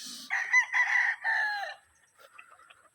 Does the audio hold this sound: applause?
no